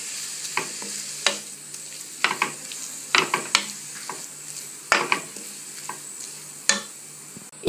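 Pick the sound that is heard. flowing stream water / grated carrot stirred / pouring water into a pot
grated carrot stirred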